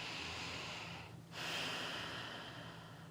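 A single deep breath drawn in slowly and close to the microphone during a calm guided body exercise, a soft airy rush that swells, pauses briefly, then continues, quiet and alone with no talking.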